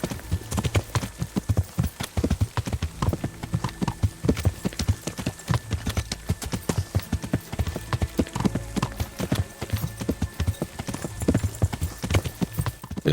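Horse hooves pound rapidly and rhythmically in the medieval video game Kingdom Come: Deliverance, a close, steady gallop of clip-clop beats running throughout with faint tack jingles.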